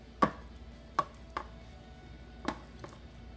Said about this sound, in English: Scrape out whatever's left.